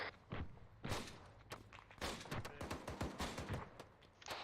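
Gunfire in a military video game: faint, rapid bursts and scattered distant shots crackling steadily, with a few thumps mixed in.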